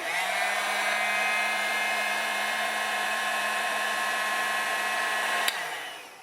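A hair dryer or heat gun blows steadily on shrink tubing over a motorcycle power valve cable, a constant loud whirring hum that cuts off near the end, with no voices.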